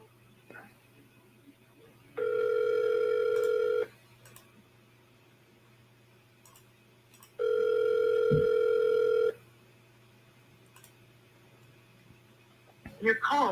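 Telephone ringback tone on an outgoing call, two long steady rings separated by a quiet pause over a low line hum, with a brief clatter at the end.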